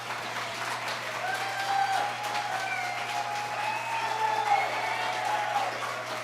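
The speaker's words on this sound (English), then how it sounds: "Could you applaud one more time?" Steady applause from an audience at a spiritual center talk, a dense, even wash of clapping that holds for about six seconds with faint voices murmuring underneath.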